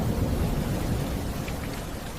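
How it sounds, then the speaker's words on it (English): Heavy rain pours steadily outside a seaside lighthouse during a storm, a dense, close hiss with a low rumbling undertone of thunder throughout. "The storm outside grew heavier for a moment, waves crashing harder below."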